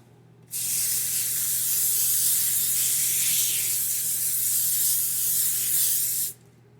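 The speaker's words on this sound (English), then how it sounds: "let's spray our parchment paper in our pizza pan" A steady cooking spray hisses continuously onto parchment paper in a pizza pan for about six seconds, close and fairly loud, starting and stopping abruptly.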